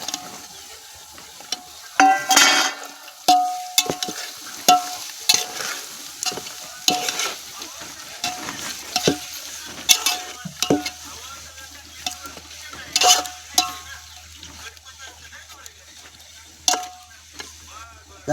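Mutton frying with browned red onions in a pot over a village wood-fired clay stove, a steady sizzle broken by repeated scraping and clanking of a stirring spoon, close and with no talking.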